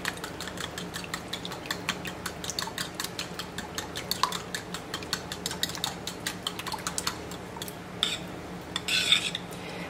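Dry spices (pepper, cayenne and garlic powder) stirred together in a bowl, a steady run of light clinking and scraping taps from a spoon against the dish, close and fairly quiet, with no talking.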